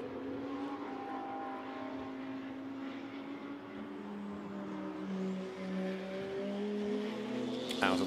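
KTM race cars accelerating on a circuit toward Blanchimont, a steady droning engine roar rising in pitch, heard from a distance and continuous throughout.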